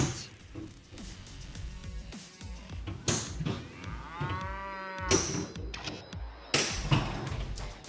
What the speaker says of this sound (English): Anything that makes a cow sound makes me happy.